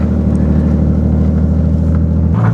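A Mini R32 engine runs with a steady, loud low-frequency drone that shifts slightly near the end, heard from inside the car with no talking.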